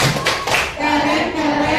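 A sixth-grade classroom doing a clapping chant, with a few quick claps and taps at the start followed by children's voices chanting together in a loud, close group.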